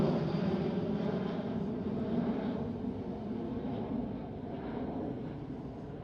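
A KLM Boeing 737 climbs away from Amsterdam Schiphol with its gear retracted, producing a continuous broadband jet roar heard from a distance that slowly fades over several seconds.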